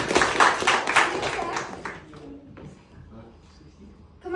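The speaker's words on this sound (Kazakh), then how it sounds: "Енді дұрыс аударма сөздерге қолымызды шапалақтаймыз" Children in a classroom clap their hands in a short burst of quick, close, loud claps that fades out, with voices speaking around it.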